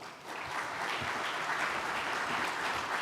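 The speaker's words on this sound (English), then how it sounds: "let's give them a round of applause as they come on stage" A conference audience at a family office event applauds as speakers come on stage, with moderately loud, continuous clapping from a sizable crowd that builds quickly and holds steady.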